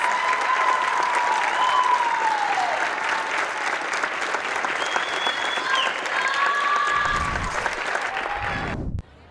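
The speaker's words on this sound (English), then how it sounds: "Join me in giving all these athletes a big round of applause for their accomplishments." Stadium crowd applauding high school athletes at a football playoff at Lake Travis High School, a steady wash of clapping with scattered whistles and a voice breaking through, cutting off sharply at the end.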